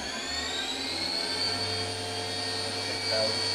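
A Fadal VMC 2016L CNC mill from 2000 with its spindle ramping toward 6,000 RPM, a steady whine with bright tonal lines over a low hum, rising slightly in pitch and holding loud and near.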